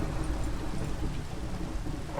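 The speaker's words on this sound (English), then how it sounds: "that is loud thunder" Loud, deep rumbling thunder rolls continuously through a Minecraft SkyFactory 3 storm, blended with steady rain noise and no speech.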